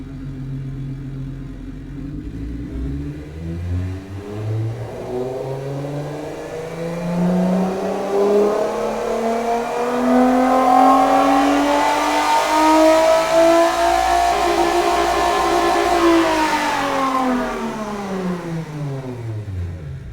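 Car engine in the Automation game, built with tubular headers, dual exhaust with bypass valves and no sound deadening, revving from idle up through rising pitch to a loud sustained high note and dropping back, with no talk.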